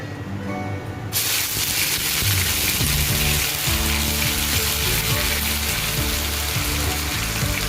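Two tablespoons of onion paste drop into hot oil with tempering spices and sugar for a Bengali chitol fish muithya, bursting into a loud, steady sizzle after a quieter second, with background music underneath.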